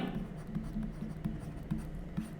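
Chalk or marker scraping across a board during a physics lesson, a steady run of short regular strokes close by, fairly quiet with no talking.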